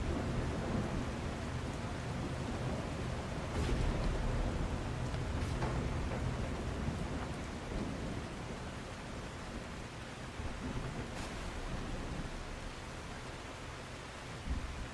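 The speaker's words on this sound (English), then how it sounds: "It's dark and it's a thunderstorm." Steady rain hisses throughout a dark thunderstorm, with a few brief thunder cracks rising over the wash around the middle and later on; no talking.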